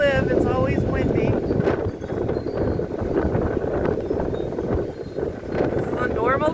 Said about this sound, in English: Where we live, it's always windy.